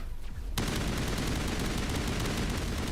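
Rapid gunfire with polonium rounds in Mass Effect: Legendary Edition, a sudden burst that starts after a brief quiet moment and then keeps up as a steady, loud stream of shots.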